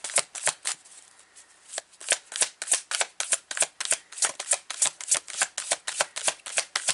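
Tarot cards are shuffled by hand in a long run of crisp riffling bursts, about two or three per second, close and clear, with a quieter stretch near the start, no talking.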